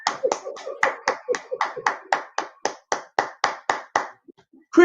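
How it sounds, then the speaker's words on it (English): An audience claps along in unison, about sixteen sharp, evenly spaced claps at a brisk steady beat before stopping, followed by a brief murmur. "Everybody clap up."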